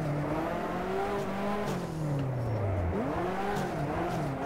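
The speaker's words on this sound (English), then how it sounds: "So drifting with the stock car isn't that easy." Stock car sliding sideways in the racing sim rFactor, tires squealing steadily as the engine note sweeps down and back up, close and continuous with no talk.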